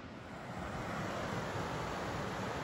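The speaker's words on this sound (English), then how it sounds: "There's the water coming down into this pool." Water pours down over rocks into a deep rock pool, a constant broad rushing wash that swells slightly, heard up close with no voices.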